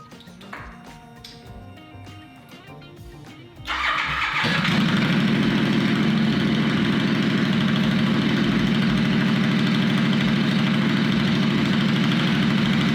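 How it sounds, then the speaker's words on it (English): A 2019 Royal Enfield Continental GT motorcycle without mufflers cranks over a few seconds of quieter background, fires up, and settles into a loud, steady, throbbing idle close by. "I'm gonna go start my bike up."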